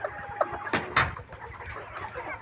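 Farm chickens peck at feed and cluck in scattered short calls, with a couple of louder clucks standing out over a busy background of flock noise.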